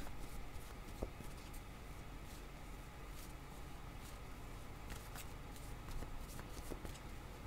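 Tarot cards are drawn and shuffled from a deck, a soft continuous papery rustle and shuffle with occasional light flicks, heard close and fairly quiet against a steady background hiss.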